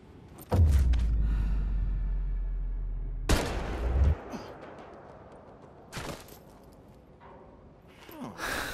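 Gunshots in the VR shooter Medal of Honor: Above and Beyond: a deep booming rifle report, then a second sharp shot with a rumbling tail, and a fainter crack later, each followed by quiet.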